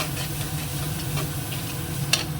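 A spice paste fries and is stirred in a pan for a fish dish, a close, steady sizzle with a faint scrape and one brief clink near the end.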